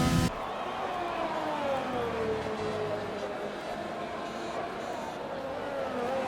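Race car engine in a racing sim game at Silverstone, a steady sustained drone with gliding pitch as the car works through corners toward the final chicane, with commentary voices running over it throughout.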